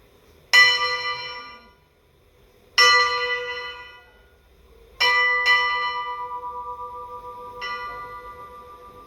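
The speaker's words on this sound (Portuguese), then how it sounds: "agora a gente vai descair o sino" A church bell in São João del-Rei, Minas Gerais, is swung outward and left to come to rest on its own: four loud, ringing strikes spaced a couple of seconds apart, each decaying slowly, the last ones softer with a long sustained hum.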